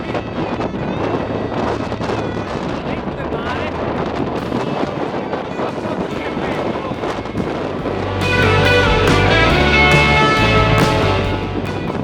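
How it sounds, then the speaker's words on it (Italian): Steady broadband wind roar buffeting the microphone throughout, growing louder and fuller near the end, on a bicycle tour in Corsica. "il vento si è alzato"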